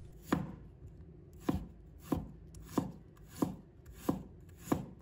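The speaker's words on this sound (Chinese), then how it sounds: "把它切成片。" A knife slices fresh ginger into pieces on a board, with seven crisp, evenly spaced cuts heard close up against a quiet background.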